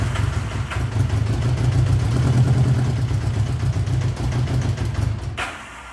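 A 1979 Honda GL1000 Goldwing motorcycle engine runs roughly without choke, a loud, uneven low rumble with irregular stumbles, steady for about five seconds before cutting off abruptly near the end.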